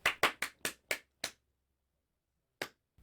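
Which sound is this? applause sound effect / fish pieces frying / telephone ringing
applause sound effect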